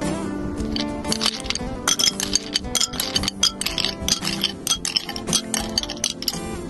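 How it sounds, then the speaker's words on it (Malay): Ice cubes clink repeatedly against a glass of palm sugar syrup, forming a run of bright, close, fairly loud rattles and taps with no talking. "Seterusnya, kita masukkan ketulan ais."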